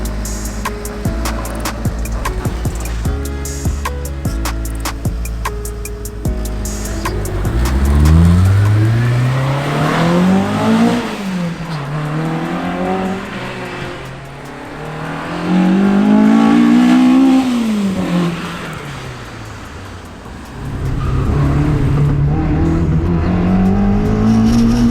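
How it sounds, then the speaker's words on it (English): Engine of a Honda-powered drift car idling with sharp rattling pops, then revved repeatedly, its loud pitch climbing and falling in several long sweeps up close. "Motor sounds healthy, no leaks."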